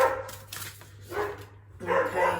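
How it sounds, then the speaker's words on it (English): A dog barking indoors, a few short barks spaced across the moment, moderately close, with a brief spoken word. "excuse my dog barking"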